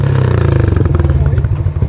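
A smoking motorcycle engine revs hard up close, a loud, rough, continuous throb with rattly mechanical clatter throughout.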